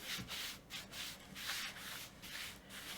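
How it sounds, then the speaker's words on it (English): Varnish being wiped onto an old piece of wood with a cloth, following the grain, in faint, soft, repeated rubbing strokes close by. "And then I will put the varnish on, wipe away, going with the grain of the wood,"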